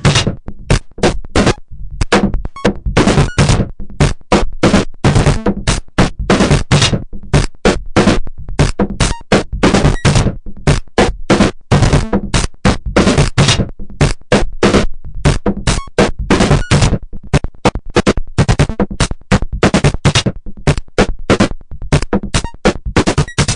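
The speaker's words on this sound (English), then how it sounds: "so the whole thing comes out going chicka chicka chicka chicka chicka" Synth drums chopped into rapid 16th-note gated bursts by an envelope and VCA, a loud, relentless stuttering chatter that runs on evenly throughout, with no voices.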